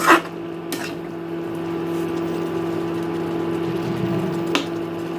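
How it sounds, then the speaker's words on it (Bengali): Spoon scraping and clinking in a pan while stirring dahi bhindi, an okra curry: a sharp metallic knock at the start, a couple more taps later, and a soft steady hum from the stove in between. "এখন সবগুলোকে আরেকবার ভালো করে মিশিয়ে দেব"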